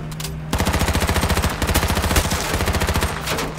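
Rapid automatic gunfire in the battle royale game H1Z1, a loud continuous burst of evenly spaced sharp shots lasting about three seconds, with a brief quieter lead-in and no talking over it.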